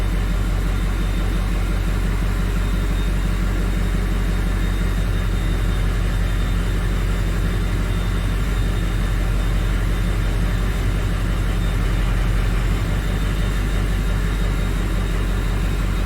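A 2005 Ford F350 with the 6.0 diesel idling with a weak cylinder, a steady low rumble and clatter that runs unbroken, close up, with no voices.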